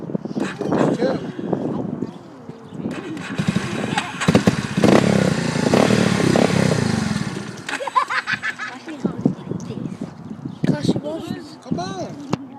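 A kid's ATV engine idling and revving unevenly in bursts, close by, with people talking over it throughout.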